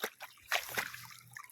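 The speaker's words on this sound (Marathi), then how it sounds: "हे बघा, तलावाचा झरा आहे तो, तलावाच्या खाली कोपऱ्यामध्ये." Spring water trickling down into a lake at the lower corner of the pond outdoors, a soft, steady watery trickle with a couple of brief louder splashes, faint and close.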